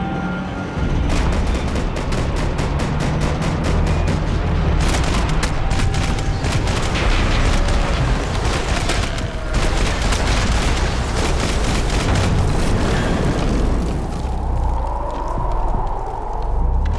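Sustained dense gunfire in a Max Payne 3 cutscene, rapid crackling bursts layered over loud continuous rumble and action noise for the whole stretch, easing toward the end.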